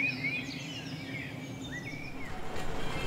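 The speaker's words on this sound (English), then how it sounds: "But hear the birds chirping." Birds chirping and tweeting above a city in western Florence, Italy: several thin, bright calls in short sweeping phrases over a soft background murmur of distant town noise.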